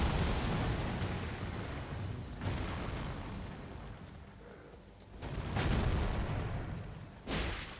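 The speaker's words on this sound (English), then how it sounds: "Throw its enemies using FP to cause a gravitational explosion." Gravitational explosion cast with a meteorite spell in Elden Ring, a heavy rumbling blast that swells and fades, followed by further deep bursts later on, moderately loud with no voices.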